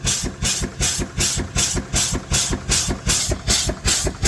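An old steam engine drives an electricity generator while burning chopped wind turbine blades, chuffing and hissing in a steady rhythm of about two beats per second, loud and close.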